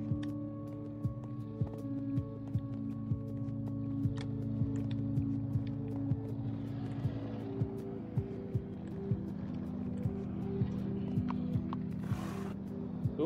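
Hooves clip-clop at a steady walking pace in the Minecraft: Story Mode video game, the evenly spaced soft thuds sitting over a sustained low ambient drone. The sound is quiet and plays without speech.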